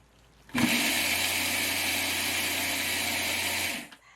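A kitchen blender grinds roasted soybeans and salt into powder, starting abruptly, running as a loud steady motor whine with a low hum for about three seconds, then cutting off.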